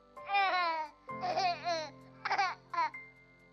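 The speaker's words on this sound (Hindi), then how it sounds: "ये है मेरे आंख के तारे की खेलते हुए आवाज।" An infant babbles in a few bursts of cooing, playful vocal sounds with short pauses between, close and clear.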